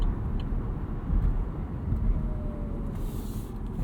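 A 2017 Chevrolet Bolt EV pulls away hard from a green light in sport mode with traction control off, giving a steady rumble of road and tyre noise plus a faint rising electric-motor whine, with no voices.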